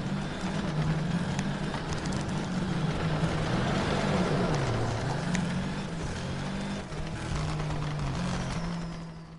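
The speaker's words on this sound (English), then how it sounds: "you'll really hear the car engine labouring here as it sort of struggles" A rally car's engine labours and strains on a wet, damp surface in Sega Rally Revo, a loud continuous droning growl that dips and rises in pitch as it struggles, with no voices.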